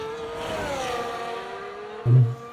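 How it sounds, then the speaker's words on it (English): An F1 race car in the F1 24 video game at Jeddah, its high engine whine dropping in pitch as it brakes for a hairpin, ending in a brief heavy thump. "At the last second, quick tap of the brakes to get through that hairpin."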